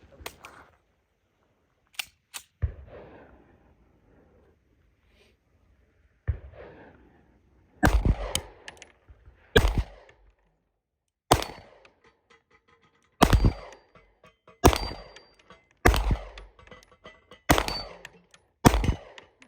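Gunshots from a Dan Wesson DWX pistol at an outdoor range, loud sharp reports fired singly and in quick pairs, with quiet gaps between strings and a short pause early on.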